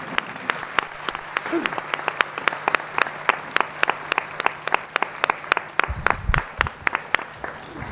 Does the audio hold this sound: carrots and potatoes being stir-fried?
no